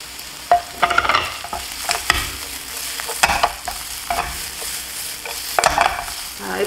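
Pork and green peppers stir-fried with salt and sesame oil in a hot wok, a steady sizzle with repeated scraping and clanking of the utensil against the pan, close and continuous with no talk.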